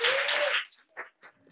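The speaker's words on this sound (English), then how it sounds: "can we just give a round of applause to the panel?" At a ministerial panel session, a short burst of audience applause for the panel is loud for about half a second, then breaks into a few scattered, fading claps.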